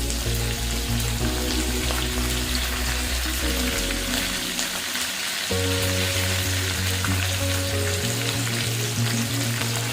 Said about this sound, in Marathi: डाळ परतली की यामध्ये मिरची टाकून घ्या